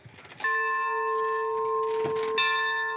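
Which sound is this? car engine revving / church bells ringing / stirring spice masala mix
church bells ringing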